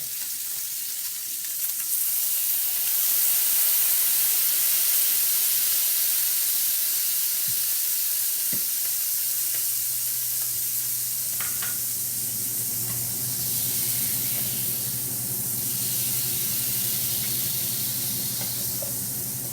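Loud, steady sizzle of vinegar from hot cherry peppers hitting a hot pan of pork chops on a gas stove, a continuous frying hiss with occasional clinks and stirring, no talk.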